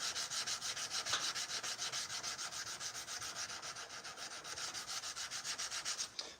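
A 1084 high carbon steel knife blade is hand sanded with steady back-and-forth strokes, producing a rhythmic, close, bright rasping scrape, about three strokes per second, with no talking.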